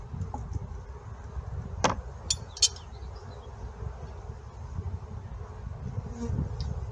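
A low, continuous buzz of honeybees nearby at a queen-rearing hive with royal cells, with a few faint clinks and taps briefly standing out over the steady drone.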